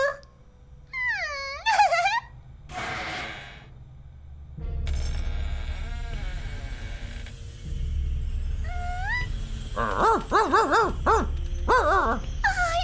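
A dog whimpers and yelps in rising, wavering cries, mixed with clattering sounds and a low rumbling background.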